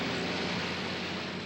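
A propeller aircraft engine drones in a steady, even hum with no change in pitch, filling the short stretch alone without any voices.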